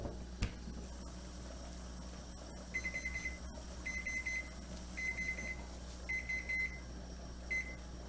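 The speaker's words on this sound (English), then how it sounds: "so we're going to set the timer for 20 minutes" A kitchen timer sounds after 20 minutes of boiling during pork BBQ canning. It rings in several short bursts of bright, repeated beeps with pauses between them, over a steady low hum from the stove.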